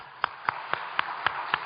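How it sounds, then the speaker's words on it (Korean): Six evenly spaced claps ring out at a steady beat in a church service, crisp and fairly loud, as the congregation claps together in a slow unified rhythm. "우리 박수 한번 하겠습니다."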